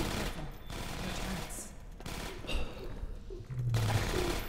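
Automated turrets fire in bursts of rapid gunshots in Half-Life 2 Episode One, moderately loud with brief pauses between volleys and a faint voice mixed in underneath.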